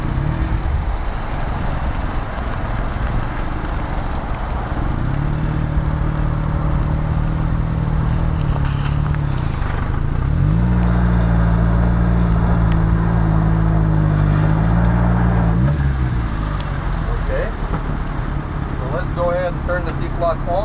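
A 1991 Subaru Sambar kei truck in two-wheel drive labors up a small hill, its small engine droning loud and close with rising, straining pitch and shifting revs, talking heard intermittently inside the cab.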